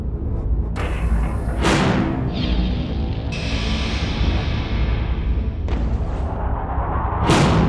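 Explosion blasts from an industrial explosion-venting test arrive as several sharp, loud booms with broadband rushes, separated by a sustained roaring wash of noise.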